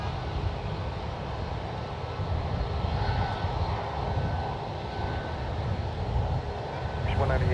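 A WestJet Boeing 737-800 lines up on runway 1 right at San Francisco International Airport, its jet engines giving a steady, broad low roar from a distance that holds evenly throughout, with faint radio chatter underneath.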